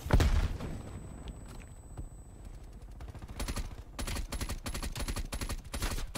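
Rapid bursts of automatic gunfire from Call of Duty Black Ops Cold War, shots punching through a wall, loud and close, with short clustered volleys and pauses between them, mixed with game footsteps.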